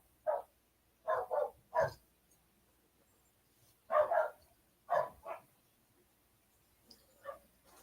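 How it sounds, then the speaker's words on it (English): Dogs bark in short bursts while playing: single and double woofs, some close and loud, then a few fainter barks and yips toward the end, with quiet gaps between them. "They always have to bark when they're playing."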